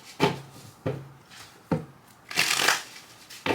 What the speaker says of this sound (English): Let me do a quick shuffle here.